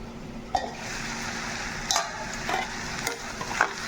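Amaranth leaves frying in a pan crackle steadily nearby, punctuated by several clicks and scrapes of a stirring spoon against the pan, with no speech.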